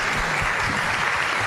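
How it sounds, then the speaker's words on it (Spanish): Audience applause at the close of a talk on IT talent, a dense, steady wash of clapping from a crowd filling the whole stretch without voices. "Un aplauso."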